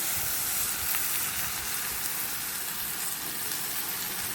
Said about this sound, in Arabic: هجيب الطماطم اللي انا عاملاها عصير نحطها على البصل كده مباشره